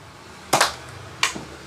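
A toy Nerf gun firing twice, each shot a sharp close pop with a brief whooshing tail, separated by roughly half a second of quiet room tone.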